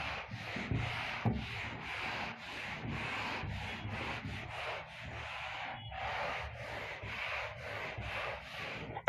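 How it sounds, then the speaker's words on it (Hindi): Rhythmic rubbing strokes of a classroom board being wiped clean during a maths lesson, a steady back-and-forth scrubbing that repeats many times at close range with no talk. "अब इसको मैं रब कर देता हूं एक बार।"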